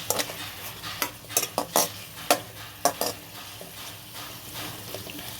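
A spoon stirs tomato chutney frying in a pan, giving sharp clinks and scrapes at irregular intervals over a soft, continuous sizzle.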